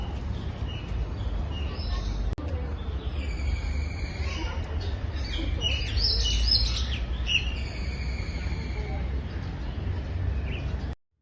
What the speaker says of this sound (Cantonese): 嗰度啊，好多雀仔係啊。